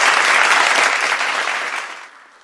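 Dense, steady applause from a congregation at a consecration service of an Indian Orthodox church in Cambridge, filling the space before tapering off toward the end.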